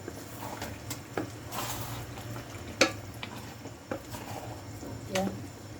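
A spoon stirs mung bean stew with bitter melon in a cooking pot. Quiet scraping and a few sharp metallic clinks against the pot sound at irregular intervals over a low background.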